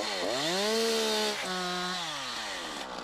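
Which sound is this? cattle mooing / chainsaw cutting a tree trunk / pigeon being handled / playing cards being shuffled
chainsaw cutting a tree trunk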